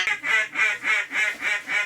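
A rapid run of six or seven nasal mallard duck quacks in steady rhythm, loud and close, with nothing else audible.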